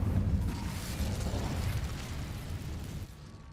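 A fire spell, Incendio, cast in Hogwarts Legacy bursts out as a dense, roaring blast that holds steady for about three seconds before easing off slightly, with no talking.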